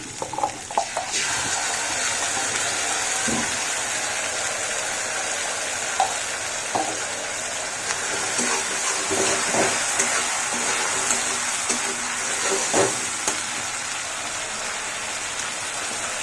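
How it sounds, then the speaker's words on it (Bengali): Spice masala frying with tomato paste in a pan for a no-onion, no-garlic Bengali stuffed capsicum recipe: a steady, fairly loud sizzle runs throughout, broken by occasional clicks and scrapes of stirring. "মশলা ভালো করে ভেজে নিয়ে তারপর অ্যাড করব টমেটো"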